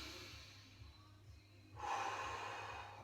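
A deep breath blown out through the mouth during a stretching routine, a breathy exhale rising sharply partway through after a quieter stretch of faint breathing, close and alone.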